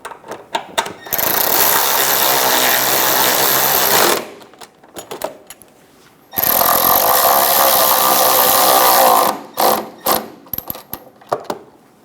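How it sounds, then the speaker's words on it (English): A power tool drives the crankshaft vibration damper bolts on a 1994-1997 Honda Accord 2.2L four-cylinder engine in two long, loud buzzing runs, with short clicks and rattles before, between and after them. "Go around and install all of the bolts. Snug them down as you go."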